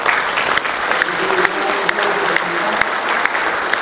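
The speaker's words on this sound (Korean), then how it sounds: "여러분들 박수로서 이렇게 받았으면 좋겠습니다." An audience applauds at a book launch event held by the Icheon city mayor, with steady, dense clapping throughout and no talking.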